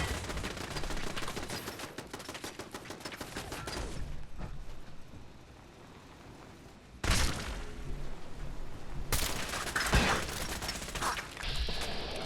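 Turret gunfire in Fallout 4, loud rapid automatic bursts that rattle on, pause into a quieter stretch, then erupt again in sharp renewed volleys.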